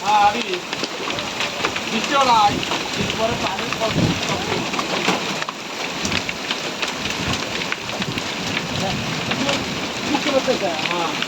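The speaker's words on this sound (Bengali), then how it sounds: "আপনারা মনে করবেন এগুলা ফোটা পড়তেছে এগুলা বৃষ্টির ফোটা কিন্তু না এগুলা হলো শিল" A fierce hailstorm with heavy wind drums hailstones loudly and continuously onto surfaces close by, with dense rattling impacts and a roaring gusty background, while a person talks intermittently over it.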